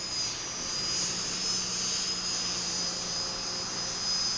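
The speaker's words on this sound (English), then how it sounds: "Here goes a jet or a jet turbine." A jet turbine engine on a tractor at a rural county tractor pull in Marshall County, Minnesota, gives a steady, loud high-pitched whine over a broad roar with no breaks.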